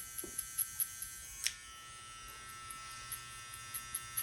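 Electric hair clippers buzz at close range during a high taper fade, a steady thin hum with short bursts and clicks as the blade touches hair, and no talking.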